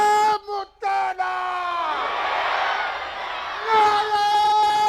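A large crowd at a political rally in Bagh-e-Jinnah, Karachi, roars and chants slogans back in unison after a voice leads over a loudspeaker, the massed shout swelling loudly before he calls out again.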